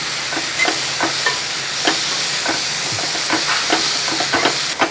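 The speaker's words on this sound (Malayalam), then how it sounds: "ഇനി ഇതെല്ലാം കൂടെ കൂട്ടി ഒന്ന് ഇളക്കി കൊടുക്കും" A spoon works through okra curry seasoned with salt in a pan, giving a steady sizzle broken by repeated scraping strokes, close and alone.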